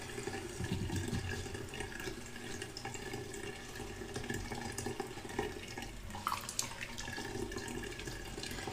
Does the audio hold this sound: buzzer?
no